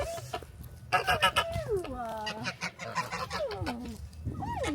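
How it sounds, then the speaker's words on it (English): A goose honks repeatedly at close range, a run of loud, wavering calls with short gaps between them, heard clearly with no talk over it. "Oh, beautiful goosey, goosey"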